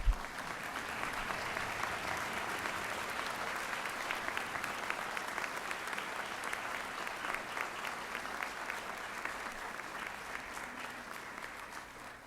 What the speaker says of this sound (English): please stand up and let us applaud your efforts